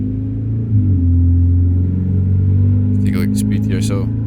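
A 2011 Volkswagen Polo GTI engine pulls steadily in American Truck Simulator, a low droning rumble that holds under a man's speech and rises briefly near the end.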